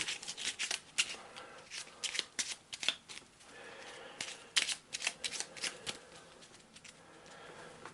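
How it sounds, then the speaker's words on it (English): Playing cards from an Eldritch Horror deck are shuffled close by, a run of quick riffling, snapping flutters and soft slides coming in bursts across the stretch, with no talking over them. "put that back in the deck and we'll shuffle it in"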